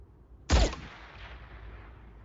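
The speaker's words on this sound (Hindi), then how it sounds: "उड़ा दो उसे, एक ही शॉट बिना आवाज के" A single shot from a silenced sniper rifle in an action film: one sharp, loud crack that trails off into a long, fading tail, with quiet ambience before and after.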